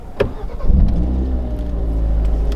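A Hyundai i30N hot hatchback starts and pulls away, its engine rising into a loud, throaty drone with a building rumble, heard close from inside or beside the car.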